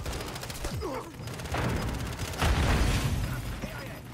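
A frag grenade goes off in Modern Warfare 3 gameplay as a heavy, booming blast that swells about halfway through, surrounded by gunfire and in-game voice callouts.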